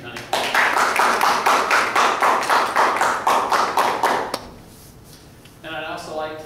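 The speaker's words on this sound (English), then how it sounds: "I'd like to thank her real quick with a round of applause" A round of applause from the audience at an anti-bullying event, roughly a dozen loud rhythmic claps in a steady beat that stop abruptly, followed by quiet and then a voice speaking.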